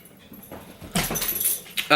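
A dog whimpers indoors in short, whiny bursts, moderately loud and close, with a brief rustle at the end.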